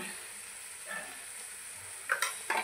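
Chilli and cumin powder get mixed into a fish curry masala in a pan, giving a low sizzle with a few short spoon scrapes near the end, close and fairly quiet.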